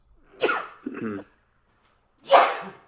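Two bursts of sneezing from a person on a call with the camera off, the first quick pair close together, then a single louder sneeze after a short pause, all near and with no other sound between.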